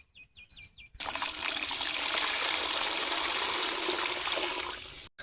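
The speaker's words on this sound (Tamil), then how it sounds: "நம்ம சாணத்தை நல்லா தண்ணி ஊற்றி நாம் கரைச்சிக்கலாம்" Water poured onto cow dung to dissolve it for amirtha karaisal liquid fertilizer, a loud continuous pouring gush lasting about four seconds after a few faint bird chirps, then stopping abruptly.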